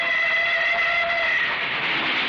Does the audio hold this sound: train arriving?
yes